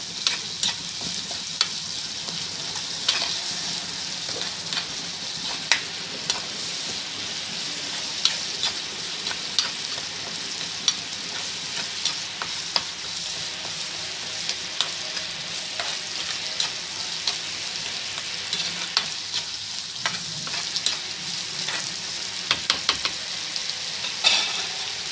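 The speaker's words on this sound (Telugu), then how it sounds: "కొంచెం కరివేపాకు, వేసుకొని వేపేసుకోవాలి బాగా." Garlic paste and curry leaves fry in hot oil with a steady soft sizzle, while a utensil stirs and scrapes the pan in irregular clicks throughout, fairly quiet and without talk.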